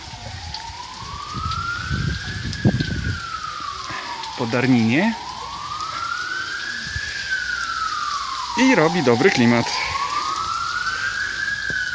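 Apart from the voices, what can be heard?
ambulance siren passing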